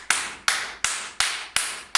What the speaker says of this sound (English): So we're just going to do 7 claps with quite a lot of energy.